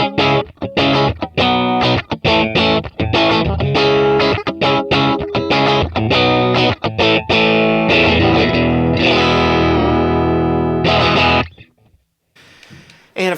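Electric guitar played through a Kemper profile of a 1962 Magnatone 440 amp on its first channel, loud and dry with a driven edge, strummed chords and quick choppy riffs sustaining for most of the passage before a short pause and a soft final strum.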